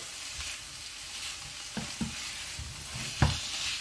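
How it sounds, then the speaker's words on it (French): A Provençal squid stew with tomatoes and basil stirred in a pan: a steady gentle sizzle, with a few soft spoon knocks and scrapes against the pan near the end. "Donc là, on mélange bien."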